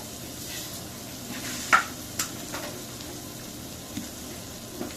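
Onions sizzle in hot oil in a pan while cooking chepa shutki bhuna with plenty of garlic, a soft steady frying hiss punctuated by a few sharp crackles and stirring clinks.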